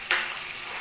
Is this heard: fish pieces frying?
yes